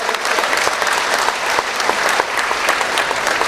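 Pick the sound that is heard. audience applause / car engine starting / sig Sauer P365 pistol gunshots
audience applause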